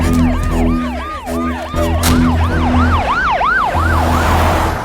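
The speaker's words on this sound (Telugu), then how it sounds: "రాజుగారిని ఇప్పుడే అంబులెన్స్ ఎక్కించడం జరిగింది." Ambulance siren wails in a fast repeating rise-and-fall pattern, loud and close, over the rumble of a moving vehicle, the sweeps growing stronger toward the end.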